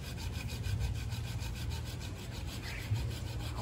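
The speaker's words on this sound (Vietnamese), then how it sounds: "Cưa này cưa kéo nha con, chứ không phải cưa đẩy nha, đừng có đẩy mạnh" A hand saw rasps steadily through the wood of a bonsai tree trunk or branch in a close, continuous run of pull strokes with a rhythmic scraping texture and no talk.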